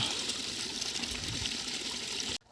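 Water pours from a 3000W BLDC borewell motor pipe into a tank, a steady broadband gushing rush held close and loud for over two seconds before cutting off abruptly.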